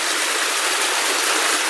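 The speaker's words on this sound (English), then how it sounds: "You can see there's a pretty little waterfall right here." A small waterfall in a stream near a gold mine gives a constant, close rush of splashing water, dense and unbroken with no voices.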